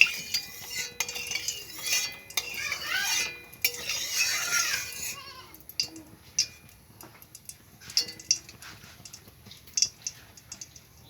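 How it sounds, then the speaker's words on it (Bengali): A spatula spreads hot oil across a pan with a few seconds of continuous scraping strokes, followed by scattered light clinks and taps of metal against the pan, fairly quiet and close. "খন্তি দিয়ে তেলটাকে ছড়িয়ে দিচ্ছি।"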